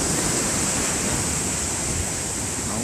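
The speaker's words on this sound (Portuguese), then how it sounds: "onde o mar está batendo mesmo" Heavy sea surf pounding steadily against an eroding coastal cliff in Baía da Traição, a dense continuous wash of breaking waves up close, with no talk.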